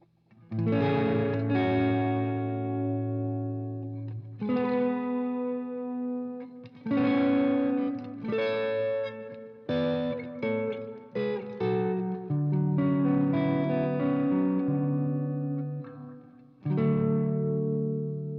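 Electric guitar chords strummed and left to ring through a Hot Socket pedal, clean with a touch of grit, played alone in several bursts with short pauses between.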